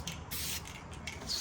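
An aerosol can sprays paint onto a Ford F150 truck in short, faint hissing bursts, close by and without talk.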